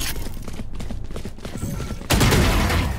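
Rapid turret gunfire in a multiplayer video game, a dense stream of close, loud shots that grows heavier and louder near the end.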